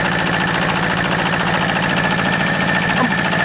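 An RC8D French marine diesel engine runs steadily at about the right RPM with a rhythmic knocking chug, loud and close, unbroken for the whole stretch.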